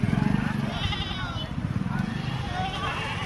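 Goats bleat at a rural goat market in Manawar, Dhar district, Madhya Pradesh, with repeated calls in the first moments under a busy crowd murmur and nearby talk.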